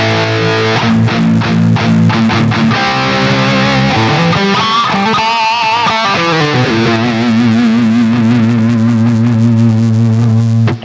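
A loud, heavily distorted electric guitar through a Bogren Digital AmpKnob Marshall amp plugin plays with a big washing reverb, its notes smearing and warbling into one another without pause.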